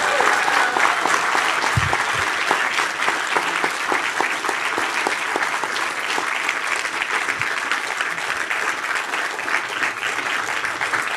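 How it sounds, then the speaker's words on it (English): Sustained applause from a conference audience at a DevOps event fills the hall, dense steady clapping for over ten seconds with a few louder claps standing out near the front. "Can I please get a round of applause for our fantastic organizers?"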